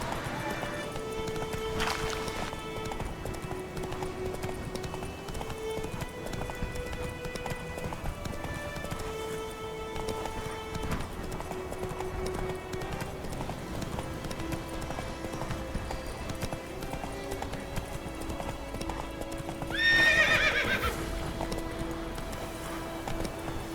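A horse gallops steadily in The Witcher 3 with a continuous rhythmic clip-clop of hooves under game music. About two-thirds of the way through, a short loud neigh breaks in.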